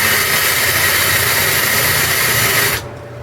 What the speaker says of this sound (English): What you do is you start out drilling by going straight on.